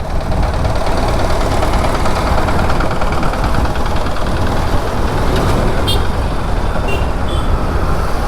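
An auto-rickshaw engine knocks and rattles loudly at close range, a dense continuous mechanical clatter with road noise around it.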